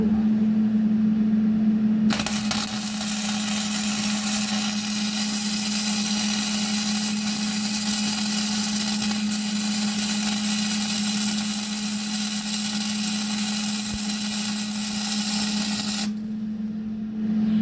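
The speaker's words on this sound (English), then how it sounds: "Welding." Welding during repair work, a loud continuous buzzing hiss with a steady low hum, running unbroken for about fourteen seconds up close before cutting off.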